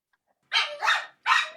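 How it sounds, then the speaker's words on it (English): Dogs barking close by in three loud, quick bursts, the middle two running together, with no voices. "I got my dogs are barking again."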